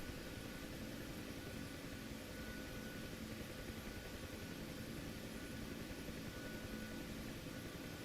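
A Huey helicopter hovers, producing a steady, even engine and rotor drone with a constant whine that neither rises nor fades across the stretch, with no one talking.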